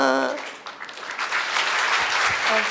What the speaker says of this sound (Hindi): बहुत खूब, बहुत ज़ोरदार तालियां।